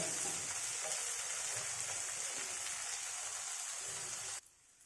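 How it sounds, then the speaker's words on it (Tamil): Okra sizzling as it is sautéed uncovered in a pan over a high flame, a steady dense frying hiss close by that cuts off abruptly near the end. "இந்த டைமில் ஹை ஃப்ளேமில் வச்சு மூடாமல் ஓப்பன் ஏர்லேயே ஒரு 2 to 3 மினிட்ஸ் வந்து கொஞ்சம் வதக்கி விட்டுட்டே இருங்க"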